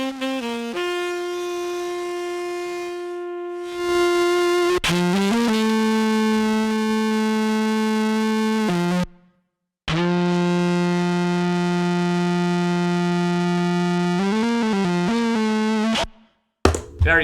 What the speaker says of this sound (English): Bit Crusher, which is a very digital sort of distortion,